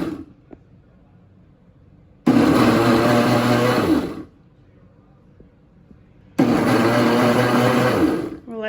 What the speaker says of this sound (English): So now we'll just hit that mixer button